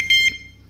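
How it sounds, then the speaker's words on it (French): Two short, shrill electronic alarm beeps from an AliExpress alarm control panel sound close by, then stop, leaving a faint low hum. "Donc là c'est la centrale qui sonne."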